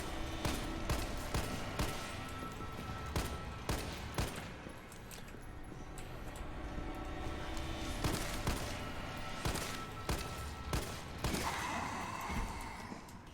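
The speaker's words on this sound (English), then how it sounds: "That's how you kill a liquor with just a pistol." Pistol shots crack repeatedly while a licker is being killed in the Resident Evil 3 remake, sharp irregular reports spaced a second or two apart over a steady game backdrop.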